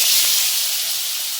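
Tomatoes frying in hot oil: a loud, close, continuous sizzling hiss that fades slightly over a second and a half.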